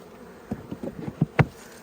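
Honey bees buzzing during a hive inspection, several close, uneven bursts of droning wingbeats rising and fading over a quiet background.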